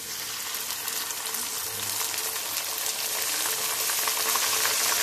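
Ginger garlic paste sautés with golden-brown onions in a pan for egg biryani, producing a close, continuous crackling sizzle that holds steady throughout without any talking.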